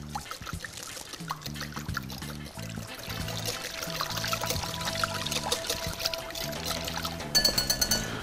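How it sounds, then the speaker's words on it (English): Buttermilk and port wine are poured into a mixing bowl for Cajun cheese curds, a steady liquid pour lasting several seconds under background music. "half a cup of buttermilk and about a half a cup of port wine."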